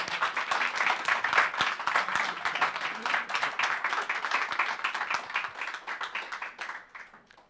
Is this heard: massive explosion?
no